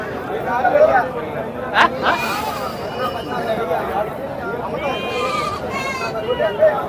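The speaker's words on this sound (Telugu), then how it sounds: "మూడు మేకపోతులు అనేది ఉన్నాయి" Goats bleat repeatedly amid a noisy crowd at the Gudur livestock market, several calls rising above the constant chatter of many voices.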